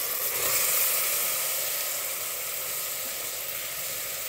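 Soy chunks (meal maker) dropped into a pan of already fried ingredients for a curry, giving a steady, fairly loud sizzle and hiss throughout with no talking.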